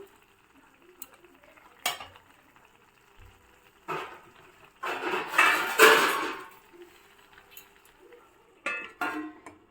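A lid goes onto a cooking pot of carrot halwa simmering in milk, with a few soft metallic clanks and scraping rustles between quiet stretches. Faint kitchen background sits underneath.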